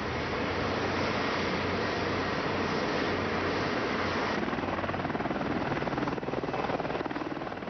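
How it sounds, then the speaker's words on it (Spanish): An AH-64A Apache attack helicopter of the US Army flies past as a steady, loud, broadband rotor and turbine roar with a low throbbing hum, continuous throughout and shifting slightly in tone toward the end. "Este es el AH-64A Apache del Ejército de los Estados Unidos, actualmente el número uno de los helicópteros de ataque en el mundo."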